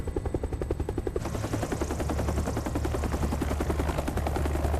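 A helicopter comes down onto a ship's small flight deck, its rotor beating in a steady rapid thump that grows denser and louder throughout, with no voices.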